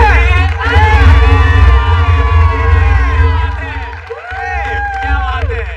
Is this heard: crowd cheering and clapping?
yes